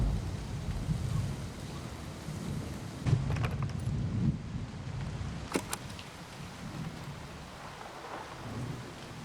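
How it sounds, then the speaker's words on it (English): Steady rain pours outdoors in a thunderstorm, a constant hiss of drops on surfaces with low rumbles of thunder swelling in the middle and a few sharp cracks. "I kind of want to record the rain."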